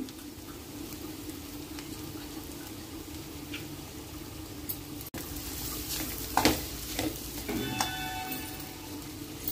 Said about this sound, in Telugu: ఇలా మొత్తం ఒకసారి కలిపుకోవాలి అడుగంటకుండా